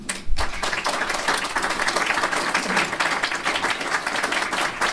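An audience at a robotics venture capital panel breaks into sustained applause, dense clapping from many hands filling the room at steady loudness from start to finish.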